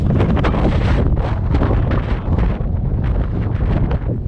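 Strong wind buffets the microphone on the summit of Mount Bond in steady roaring gusts, loud and close, with no voices heard.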